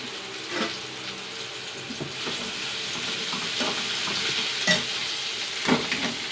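Onions sizzle in a hot pan on a home stove, with a steady frying crackle broken by several sharper scrapes and clacks of stirring; close and fairly quiet, with no talking.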